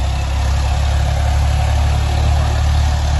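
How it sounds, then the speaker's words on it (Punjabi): An Indo Farm tractor engine pulling in third gear sends out a loud, steady diesel drone with a constant low rumble and no change in pace, close to the listener and with no voices. "ਚੱਲੀਏ ਹੁਣ ਤੀਏ ਗੇਅਰ ਕਰਕੇ ਦਬੀ ਜਾਂਦਾ"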